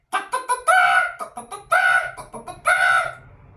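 A human voice imitating a chicken, loud and close, running through a rapid string of short clucks and then three drawn-out crowing squawks, with no other sound.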